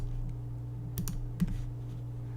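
A computer mouse clicks while points are placed one at a time with a polygon lasso selection tool: three or four sharp, close clicks in a brief cluster over a steady low hum, with no talking.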